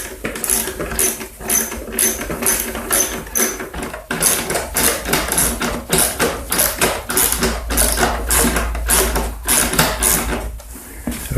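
A 3/8 socket ratchet drives screws into a Troy-Bilt TB210 front-tine tiller during a belt replacement, giving close, loud, rapid metallic clicking in steady bursts with short pauses between strokes.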